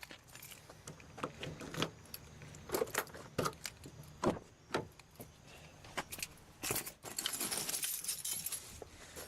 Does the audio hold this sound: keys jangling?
yes